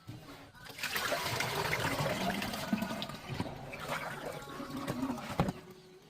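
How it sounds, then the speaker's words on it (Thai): Scented water pours steadily and splashes over mangoes close by for several seconds, a running liquid wash with a few louder sloshes toward the end. "เมื่อเราล้างน้ำสะอาดแล้วนะคะเราก็จะเทน้ำอบค่ะ"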